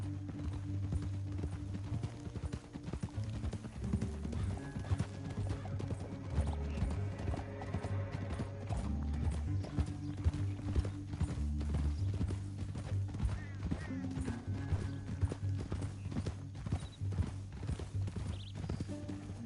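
Horse hooves clip-clop steadily in Red Dead Redemption 2, a rhythmic trotting beat over a low droning game score, with an occasional whinny and no talk.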